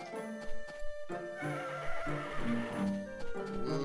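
A horse in the Harvest Moon DS video game gives a bright whinny between soft clip-clop hoofbeats and game music tones, all fairly quiet and clear.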